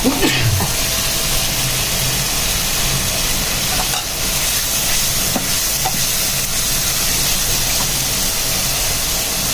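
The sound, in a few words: hilsa fish head frying in sautéed spice masala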